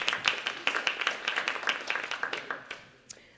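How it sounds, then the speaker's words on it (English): A light welcome round of applause for panelists at a transportation panel: a modest group clapping in quick, distinct, uneven claps that carry steadily before thinning out and stopping near the end. "just going to give a light little welcome round of applause for our panelists who made time"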